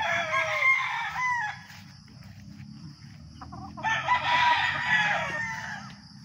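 A fighting rooster crows twice nearby, long loud calls separated by a brief pause filled with soft clucking and faint background noise.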